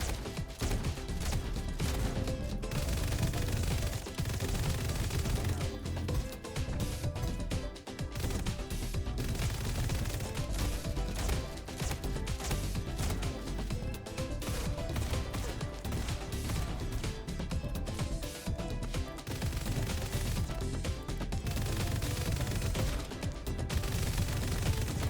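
Rapid auto pistol gunfire from the video game Lithium City, a dense, nearly continuous volley of loud shots running throughout with no pauses, mixed with game sounds.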